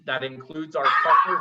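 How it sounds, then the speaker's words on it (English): A dog barks in short yips near the microphone, a few quick bursts followed by a longer whining bark, overlapping someone talking. "so sorry if you heard the barking"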